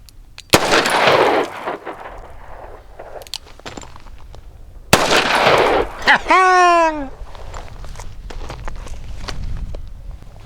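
CCI .44 Special/Magnum shotshells fired at 8 feet from a handgun or rifle: two sharp, loud gunshots about four seconds apart, each with a brief echoing tail, and a high whistling chirp after the second.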